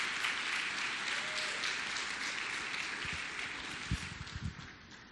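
A church congregation claps loudly and steadily in praise of the Lord, a dense continuous roar of hands with a few heavier thumps near the end.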